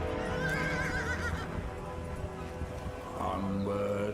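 A horse whinnies loudly and hooves clip-clop in a dramatized scene, set under music and a busy soundtrack with some speech.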